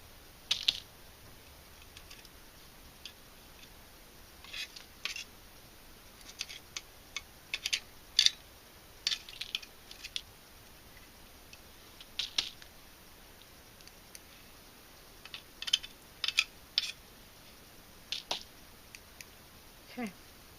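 Small stuck bits of foil and backing paper being picked out of a craft paper punch: faint scattered clicks, scrapes and ticks come in irregular bursts over a quiet background, with no talking.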